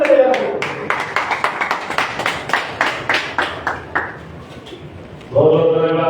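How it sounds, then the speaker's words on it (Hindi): An audience at a Buddhist gathering in Sasaram, Bihar claps in a steady rhythm for a donor, about a dozen distinct claps that slow and fade before a voice begins speaking. "एक जोरदार ताली उनके लिए"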